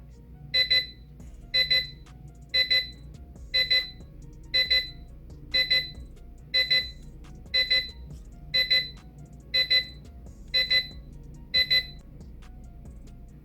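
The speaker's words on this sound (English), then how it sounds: "now we'll just wait 1 minute until it changes and you'll hear it sound off" A digital wall clock alarm beeps in short bursts, about one per second, steady and fairly loud against a low background hum.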